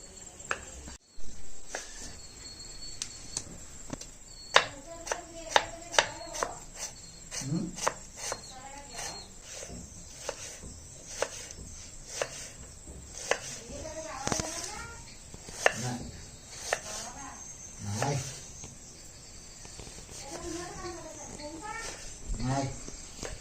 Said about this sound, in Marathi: चला आता पटापट टॉमॅटो कांदा व्यवस्थित बारीक करून घेऊया